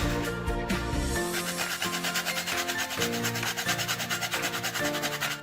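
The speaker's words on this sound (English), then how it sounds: "So I'm going to zest my orange." An orange is zested against a grater in a home kitchen, close, rapid rhythmic rasping strokes repeating steadily throughout.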